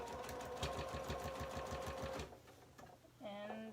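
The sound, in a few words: sewing machine top stitching white cotton cloth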